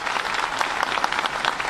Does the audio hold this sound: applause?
yes